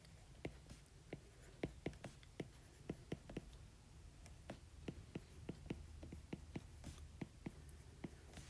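Pen writing figures by hand on paper, a quiet close series of short scratchy strokes and taps in an irregular rhythm, alone without talk.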